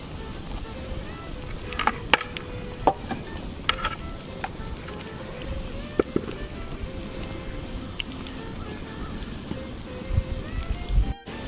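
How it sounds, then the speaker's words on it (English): A few sharp, isolated pops ring out over a low steady sizzle, like popcorn kernels starting to burst in a covered pot. "So I just heard a couple kernels pop"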